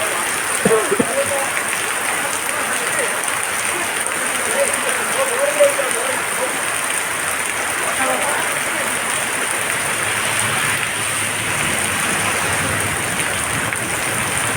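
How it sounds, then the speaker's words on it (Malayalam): Steady rain pours down in an even, dense hiss that continues throughout with little change in loudness. "മഴയുടെ അരപ്പും കേൾക്കുന്നുണ്ട്"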